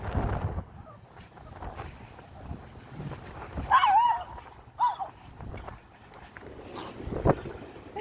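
A brown dog out on a windy morning walk gives a couple of short yips and barks at mid-distance, with gusting wind rumbling across the microphone throughout.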